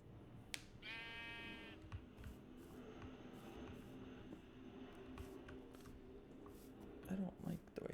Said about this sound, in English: there's some more sheep right around this corner.